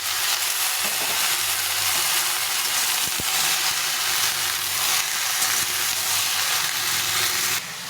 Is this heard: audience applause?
no